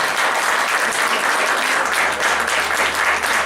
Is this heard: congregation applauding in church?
yes